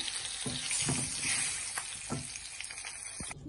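Fish sizzling and crackling in hot oil in a home kitchen, with a steady close hiss and a few soft knocks of handling in the pan, no voices.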